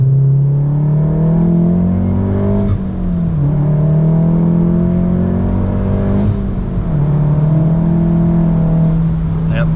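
A Stage 1 VW MK7 Golf R accelerates hard with its clutch slipping, engine tone climbing loudly through gears with two brief dips at shifts, heard from inside the car.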